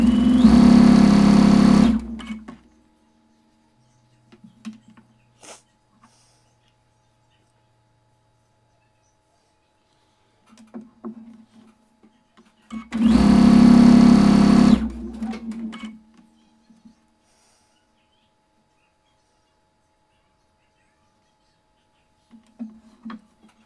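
A sewing machine piecing quilt block units runs in two loud bursts of about two seconds each, with quiet handling noises and brief stops in between.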